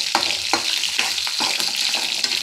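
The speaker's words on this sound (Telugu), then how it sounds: "మీడియం ఫ్లేమ్లో పెట్టుకొనేసి ఇలా వేయించుకోవాలి" Coriander seeds, mustard seeds, cumin, dried and green chilies fry in a pan over a medium flame, a continuous sizzle broken by several sharp crackles and stirring scrapes, close and fairly loud.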